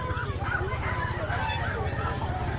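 Geese honking amid a noisy flock at a market, with a steady low rumble and people talking over the calls.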